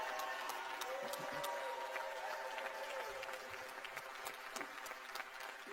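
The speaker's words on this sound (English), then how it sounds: "Give them a real round of applause." Crowd applause at a basketball coach introduction event, a continuous roar of many hands clapping with individual sharp claps popping through and faint murmuring voices underneath.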